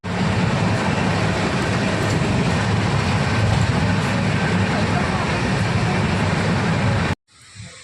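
A train pulls into a railway platform with a loud, steady rumble and clatter of wagons that continues unbroken for about seven seconds, then cuts off abruptly.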